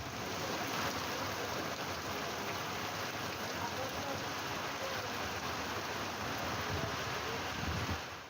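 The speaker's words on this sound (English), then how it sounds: "Torrential rain," Torrential rain pours down in a steady, dense hiss that stays even and fairly faint throughout, with no breaks.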